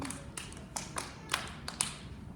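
A group of students at a school general music concert claps a rhythm pattern together, about eight crisp, unison claps with uneven spacing and short rests, heard fairly close in a quiet room.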